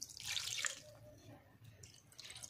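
Cold water is poured over homemade paneer to wash it, a faint, close splashing trickle that is strongest at first and then thins to light drips and running water.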